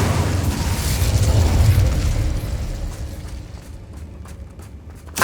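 Incendio fire spell cast in the Hogwarts Legacy video game, a loud rumbling whoosh of flame that swells for about two seconds then fades into crackling embers, with a small thud at the end.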